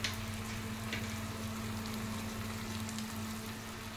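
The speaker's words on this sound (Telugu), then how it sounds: "ఇదంతా మంచిగా కలుపుకోవాలండి, ఫ్రై చేసుకోవాలి." Chili powder, salt, coriander and cumin powder frying with chicken for a curry, giving a steady soft sizzle with a constant low hum and no talking.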